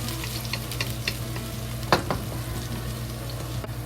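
Ginger and scallion frying slowly in hot oil in a wok for Chinese boiled pork: a steady, close sizzle with light stirring scrapes and a sharper spatula clack near the middle.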